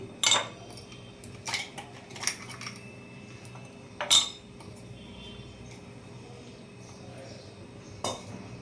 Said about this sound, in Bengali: আইসের কিউবগুলো দিয়ে দিচ্ছি